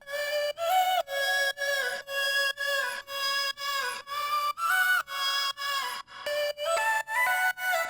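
A bright synth lead built from chopped vocal snippets plays a choppy melody of short, evenly spaced notes with brief gaps between them.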